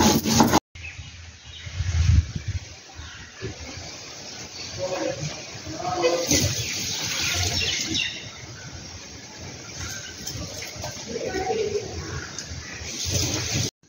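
Coriander, cumin and dried chilli are ground together on a grinding stone with a steady, rhythmic rubbing and scraping that runs throughout, close and moderately loud, with faint birdsong in the background.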